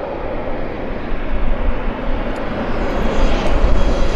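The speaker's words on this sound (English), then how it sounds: "Beach 1900 landing." A Beechcraft 1900 turboprop lands at Vancouver Airport, its engine roar loud and broadband, swelling steadily as it passes close by.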